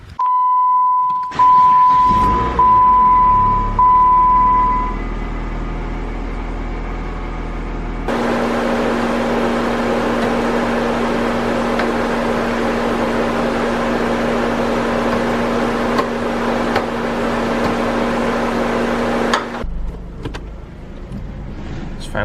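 A project car's engine after a coolant flush cranks and starts, preceded by a long warning chime, then idles at a steady drone close by for about ten seconds before shutting off, with no talking.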